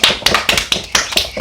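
Hands tap out a steady, quick patter meant to mimic pouring rain, about six or seven sharp, close taps in a second and a half with no talking.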